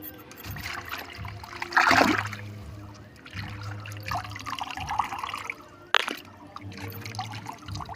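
Water splashes and trickles unevenly while ants are rinsed off kalanchoe plant roots, with short bursts of pouring and dripping at close range and a faint low hum underneath.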